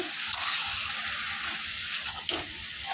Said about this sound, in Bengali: আদা বাটা, দিয়ে এখন নাড়াচাড়া করে